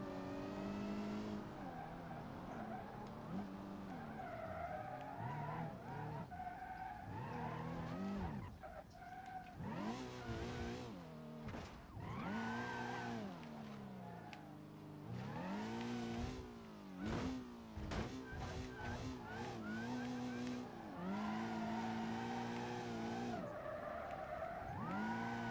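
Gavril Vertex car driving in BeamNG.drive, its engine revving up and down continuously with rising and falling pitch sweeps and tire skids, loud and close throughout with no talk.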